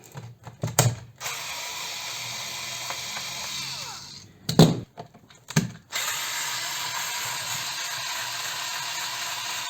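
Power screwdriver or drill unscrewing screws from the casing of a BionX 48V e-bike battery, with short whirring bursts and ratcheting clicks, then a steady mechanical hum, close and fairly loud, with no talk.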